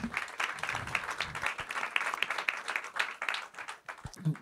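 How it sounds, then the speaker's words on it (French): An audience at a panel discussion on agricultural and food resilience gives a modest round of applause, uneven scattered clapping with individual claps audible, fairly faint and distant, ending with a few isolated claps. "On peut l'applaudir aussi"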